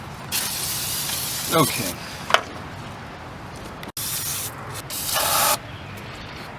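Aerosol cleaner sprays onto engine parts during valve cover gasket and PCV valve work on a four-cylinder Toyota Camry, with two or three short bursts of hiss alongside brief speech.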